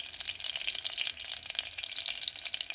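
Raw tomatoes and onions sizzle in a pan, a steady close crackle and hiss with no pauses, moderately quiet and alone.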